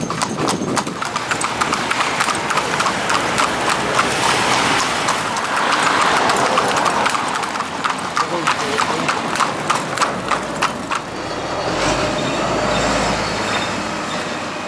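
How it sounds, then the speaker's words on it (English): A pair of Welsh Section C ponies trots along, hooves clip-clopping in a quick steady rhythm close by, fading briefly near the end while a voice talks over them. "the little greys will put up with having a horse trotting along behind them, and also Gable will quite happily sit behin"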